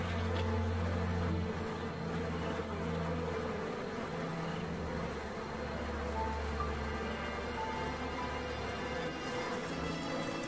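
A steady, dense buzzing of many bees at a hive entrance, continuous and fairly close, with no voices.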